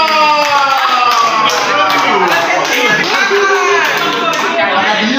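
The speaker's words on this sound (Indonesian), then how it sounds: "Tepuk tangan dulu." Audience in a meeting room bursts into clapping mixed with loud cheering and babble of voices, a dense, continuous burst that stays loud for the whole stretch.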